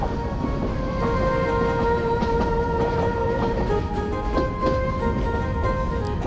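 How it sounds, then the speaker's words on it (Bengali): The Titas commuter train runs fast along the tracks, giving a loud, steady rumble with rattling carriages and a few sharp clacks, heard from on board with no voices. "বৃষ্টি অতিক্রম করে আমাদের ট্রেনটি খুবই দ্রুত গতিতে ছুটে চলেছে নেক্সট স্টপেজের দিকে"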